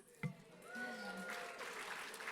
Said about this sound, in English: A nice round of applause to them as well